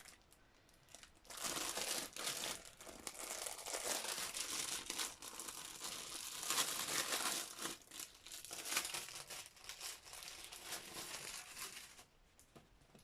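Stiff, crinkly sticker sheets are handled up close while decorating a paper journal, giving a continuous dry crackling and rustling that swells and eases over several seconds.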